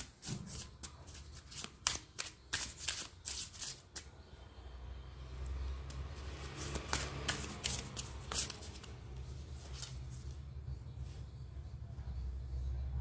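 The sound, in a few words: shuffling tarot cards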